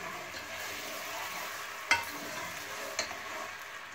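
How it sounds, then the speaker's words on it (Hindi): Crushed onions frying in oil make a soft, even sizzle, fairly faint, punctuated by two sharp stirring clacks from a spoon against the pan. "जब प्याज गोल्डन ब्राउन हो जाएगा तब तक इसको भूनना"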